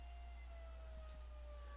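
A fire station siren mounted on the building, like a tornado siren, sounds a steady, faint, far-off wailing tone that drifts slowly downward in pitch over a low background hum.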